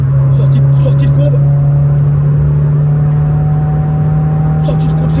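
Renault Clio 16S engine as the throttle opens, a loud steady drone heard from inside the car that slowly rises in pitch, with quiet speech over it.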